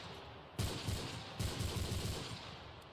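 Dragunov sniper rifle in Call of Duty multiplayer firing two sharp shots about a second apart, each followed by a rumbling tail under steady game noise.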